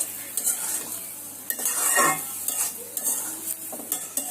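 Lentil fritters and mustard paste go into a simmering curry of mixed vegetables, bitter gourd and bitter gourd leaves, with a soft sizzle and scattered spoon scrapes and pan clinks throughout.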